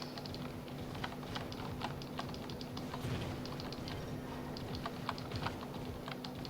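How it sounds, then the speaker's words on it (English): Rapid, continuous typing on a loud, clicky computer keyboard, close to the microphone, with dense irregular keystrokes over a faint steady hum. "The keyboard's very loud, so that sometimes it gets a little. It's a little clicky."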